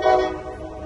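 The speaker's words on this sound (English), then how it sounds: "Okay, train." Train horn sounding near a riverbank with rocks during bank fishing, a short loud tonal blast with rolling rail rumble beneath, fading slightly over under a second.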